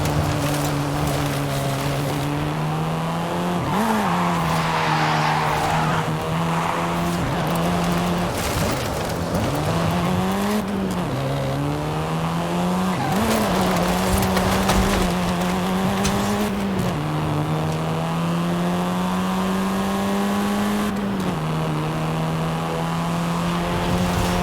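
A car in Forza Horizon 5 drives steadily with a droning engine whose pitch dips and climbs through gear changes, mixed with road and wind noise and sustained close throughout.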